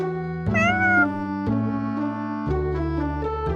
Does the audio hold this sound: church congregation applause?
no